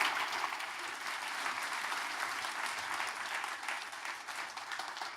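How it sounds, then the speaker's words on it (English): A lecture audience in Oslo applauds to welcome a speaker to the stage, dense steady clapping from a crowd that fades slightly toward the end. "Please give her a round of applause to welcome her to the stage."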